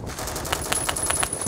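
Rapid automatic fire from a SCAR-H battle rifle in the Roblox shooter Phantom Forces, a run of sharp shots over about a second, with a thin high whine running behind the bursts.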